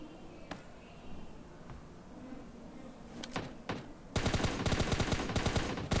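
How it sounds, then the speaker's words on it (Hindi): Gunfire in a shooter video game: a few isolated shots early on, then a rapid sustained burst of automatic fire in the final two seconds, loud and close. "उससे मैं मतलब बंदे को बहुत सारे गन शॉट मारता हूँ"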